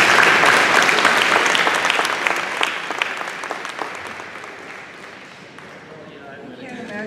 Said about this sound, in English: let's once again give Chief Frese a round of applause